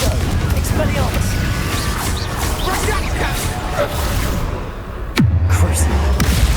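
A Confringo spell blast in Hogwarts Legacy lands as a sudden booming impact near the end, after a stretch of busy clattering combat sounds and voices.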